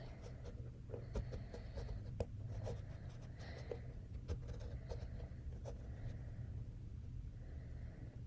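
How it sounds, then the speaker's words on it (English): A pencil traces around a hand and fingers on paper, soft scratchy strokes in short bursts and pauses over a quiet room hum, with no talking. "you're going to take your pencil and just go around all of your fingers"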